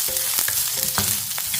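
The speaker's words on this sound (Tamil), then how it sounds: "இதை கொஞ்சம் லைட்டாக வதக்கிக்கிடுவோம்." Onions sizzle in hot oil with a steady crackle, punctuated by several scraping stirs of a spoon against the pan; no voices.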